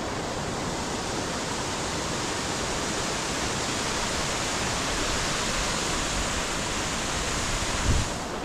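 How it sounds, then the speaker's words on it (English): A waterfall on the Paparoa Track gives off a continuous, dense roar of falling water, steady and fairly loud throughout with no talking. "Good looking waterfall, I'm sure."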